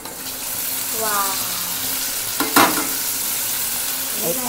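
Okra tipped into a pan of roasted chillies and stirred: a continuous loud sizzle, a sharp scrape near the middle and a few softer stirring sounds, with no talking.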